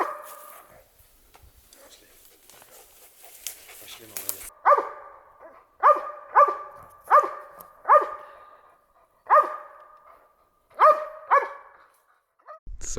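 A bear-hunting dog barks in a series of sharp single barks, spaced irregularly, fairly close, after a few seconds of quiet rustling.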